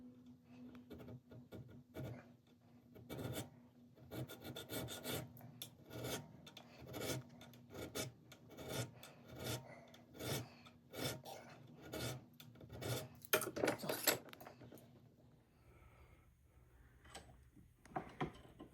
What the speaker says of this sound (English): take two chainsaw files and make the end